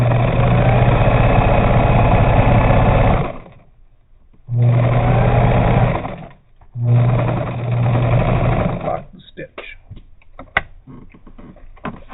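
A Bernina 830 sewing machine stitches a ditty bag seam in loud, steady motor runs, stopping briefly twice, then giving way to quieter handling noises and a sharp click.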